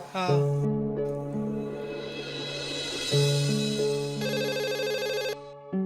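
A telephone plays a loud electronic melodic ringtone, its tune cycling continuously through a series of bright sustained notes for several seconds.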